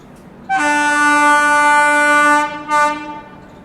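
The CR Rajdhani Express (22221) approaches to overtake the Sewagram Express, sounding a loud, close horn: one long sustained blast followed by a short second toot, with no talking.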